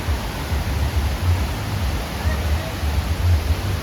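A waterfall at Vagamon Hills in Kerala roars as a dense, steady rush of falling water, close and loud, with a hint of a voice under it.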